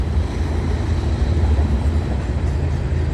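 A BNSF freight train rolls past close by, with a loud, steady rumble of wheels on rail and faint rhythmic clatter filling the whole stretch.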